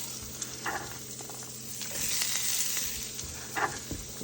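Garlic and onion sauté in melted butter, producing a soft, continuous sizzle with a few sharp stirring clicks and scrapes, swelling briefly louder midway.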